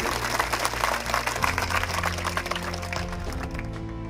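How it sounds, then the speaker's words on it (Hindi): Loud, dense applause from an audience at a motivational speech, steady clapping filling the hall throughout with musical tones sounding underneath. "तो एक बार जोरदार ताली बजाए नीरज सर के"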